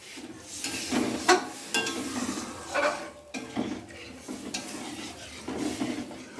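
Water poured into a pan of fried spice paste, soft sizzling under repeated stirring scrapes and light clinks of a utensil against the pan.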